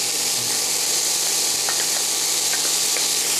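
Garlic sizzling in hot oil in a pan while a vegetable dish cooks, a steady, even frying hiss that fills the whole clip with no voices over it.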